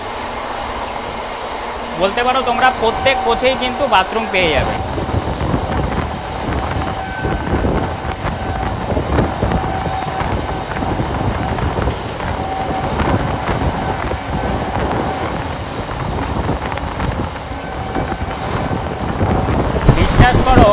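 A Sealdah to Katwa MEMU local train runs along the track, a loud continuous rumble with rattling and wind buffeting heard from inside a coach, as someone talks over it.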